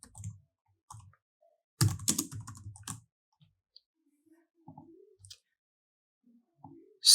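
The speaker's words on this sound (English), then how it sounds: "if we should go ahead again and type another message" Typing a chat message on a computer keyboard: sparse clicks in short bursts, one denser cluster of keystrokes in the middle, close and quiet with silent gaps between.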